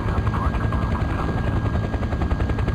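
Helicopter lifting off in the Farming Simulator 2015 video game, a steady, loud rotor chop and engine drone that continues without a break. Faint talk may sit underneath it.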